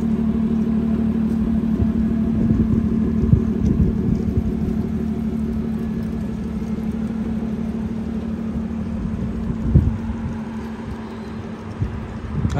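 A car engine rumbles steadily at close range, a low continuous drone with a few brief knocks and bumps along the way and no talking over it.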